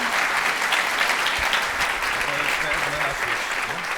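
Conference audience at a keynote applauding steadily for the full stretch, a dense continuous clapping wash with faint voices mixed in.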